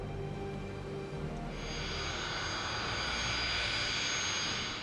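A Bulgarian aircraft in flight gives a faint, steady engine drone that swells into a brighter, broad roar partway through, heard alone at a distance.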